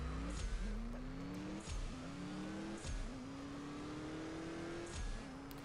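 A Nissan GTR in the CSR Racing 2 mobile game revs hard through a series of rising gear shifts, engine pitch climbing and dropping with each change, loud and close.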